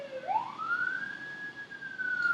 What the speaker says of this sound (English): Those sirens are brutal.